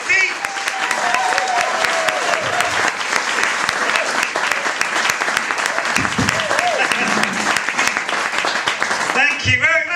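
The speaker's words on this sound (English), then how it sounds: "Everyone clapping" A comedy night crowd in Taunton gives a full round of applause, a loud, dense wash of clapping that holds steady for the whole stretch with scattered cheers and voices mixed in.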